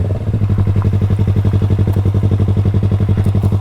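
A motorcycle rolls slowly through an abandoned gravel parking lot at night, its engine a loud, close, steady pulsing thrum with a fast regular beat and faint clattering over it.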